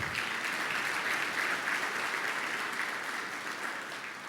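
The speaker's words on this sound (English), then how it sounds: "So, round of applause." An audience at a live event applauds in a steady, dense wash of clapping that holds for several seconds and slowly fades toward the end.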